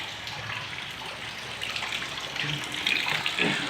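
Borewell water from a motor pump gushes and splashes steadily, like a stream pouring into a container, growing a little louder toward the end.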